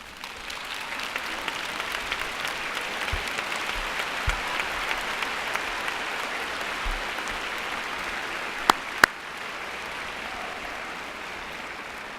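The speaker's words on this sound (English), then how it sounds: "give family, friends, and professors a great round of applause" Long, steady applause from a large commencement crowd as graduates stand, dense sustained clapping with a couple of sharp louder claps near the end and no talking.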